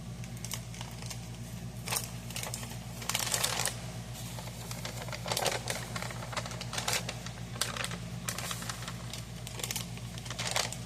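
A loaf of goat milk soap is cut into bars, giving repeated short scraping, slicing strokes over a constant low mechanical hum. The strokes are close and moderately loud, at an uneven pace.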